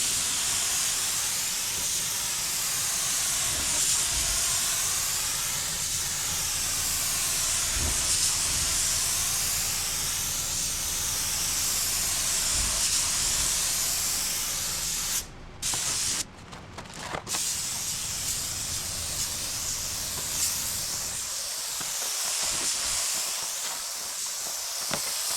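A spray gun lays primer onto a classic car body under restoration, giving a loud, steady, close hiss that runs almost without break, with a couple of brief interruptions near the end.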